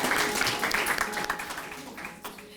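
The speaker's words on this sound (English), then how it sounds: "Let's give Jeremy another nice round of applause for that piece of Black" Audience applause at a Black History Month school presentation at Samuel S. Gaines Academy, a steady wash of clapping with some voices mixed in, fairly close and dense, tapering slightly toward the end.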